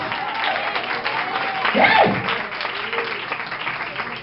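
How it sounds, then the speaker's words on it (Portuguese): A church congregation applauds briefly, the clapping swelling under a preacher's voice that keeps speaking over it. "Você pode aplaudir o Rei dos Reis?"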